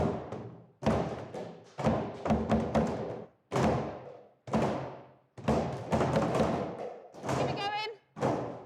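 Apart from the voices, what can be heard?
buckets banged as drums by a band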